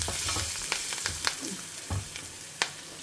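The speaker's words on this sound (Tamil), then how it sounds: "அதுக்கப்புறமா பெருங்காயம் போட்டு லேசாக ஒரு வதக்கிக்கலாம்." Mustard seeds, curry leaves and asafoetida sizzle in hot oil as they are sautéed, with a continuous crackling fry. Several scrapes and stirring knocks of a spoon in the pan are heard close by.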